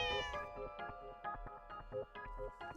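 A cat meows in the video game The Cat Lady, a long drawn-out call followed by a run of shorter rhythmic meows, close and clear, with no speech.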